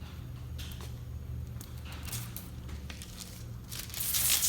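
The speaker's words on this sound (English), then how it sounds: "Peel your tint back." Tint film is peeled slowly off the wet glass of a car's back window, making a soft continuous crinkling and tearing rustle, quiet and close, that grows louder and harsher near the end.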